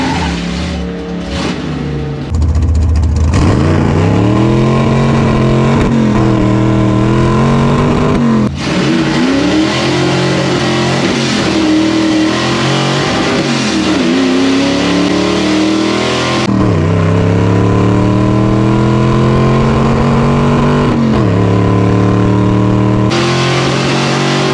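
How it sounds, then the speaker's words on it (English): A car doing a small burnout at a Battle of the Beaters drag race event: a loud, close engine revs hard through repeated rising and falling sweeps, with tire squeal and skidding, continuous for about twenty-five seconds with no talk. "I didn't want to stall it this time, so I did a small burnout."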